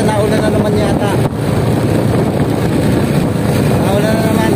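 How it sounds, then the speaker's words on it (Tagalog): Loud, constant wind roars and buffets the microphone, a dense rumbling blast with voices faintly mixed underneath. "Medyo malakas na yung hangin dito."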